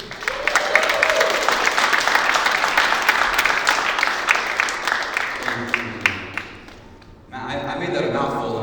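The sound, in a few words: applause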